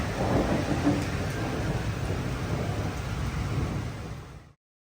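Heavy thunderstorm rain pouring onto a parking lot, a loud and steady wash of rain with low rumbling underneath that stops abruptly near the end.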